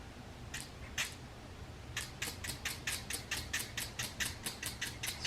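Quick bursts of a hair fiber spray applied to the hairline: two separate hisses, then a steady run of about a dozen short, evenly spaced sprays close by, with no talking.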